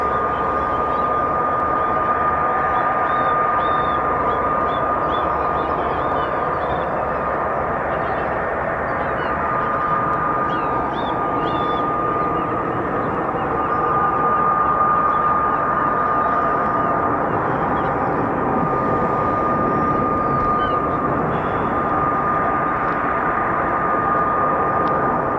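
An F-35B stealth jet hovers on its Rolls-Royce lift fan, producing a loud, steady roar with a sustained high whine that holds unbroken throughout, with no voices.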